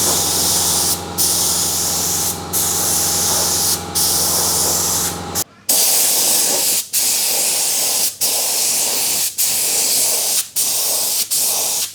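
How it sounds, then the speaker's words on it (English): Steady, loud spray-gun hiss painting a 4WD engine bay in long bursts, broken by brief pauses every second or so, close by with no talking. "it seems to be spraying really good, so I'm going to go ahead and spray the whole engine bay"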